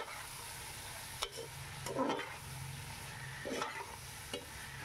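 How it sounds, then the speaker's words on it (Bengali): Quiet scraping and clacking of a utensil stirring vegetables for khichuri in a pan over a faint background sizzle, with several distinct strokes. "দিয়ে ভালো করে একটু নাড়িয়ে চাড়িয়ে নিচ্ছি।"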